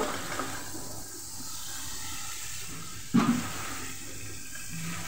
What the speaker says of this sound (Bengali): এখন দিয়ে দিচ্ছি আগে থেকে সিদ্ধ করা সবজিগুলো।